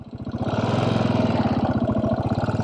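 Janus Halcyon 450 motorcycle engine revving hard while being ridden, a loud, close, steady rapid pulsing throb that holds high revs throughout with no speech.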